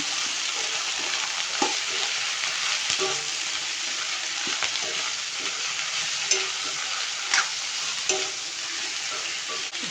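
Pasta fries in a pan like a vegetable dish, a close, lively sizzle broken by repeated scraping and clinking as it is stirred, with no voices.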